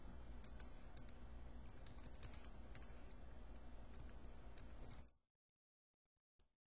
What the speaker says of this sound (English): and type my text